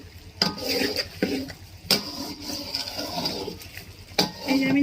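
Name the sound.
stirring mutton kosha with yogurt in a pot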